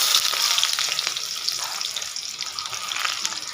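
Onion drops into hot oil already crackling with cumin seeds, giving a bright, close, continuous hiss and crackle that stays steady and fairly loud throughout.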